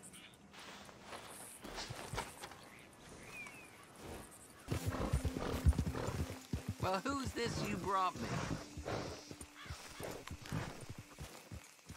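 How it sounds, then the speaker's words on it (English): Ardennes horse hooves clop along with a few whinnies and snorts in Red Dead Redemption 2, set against a busy game soundscape while someone talks over it. "Ardennes were artillery horses in the war, you know."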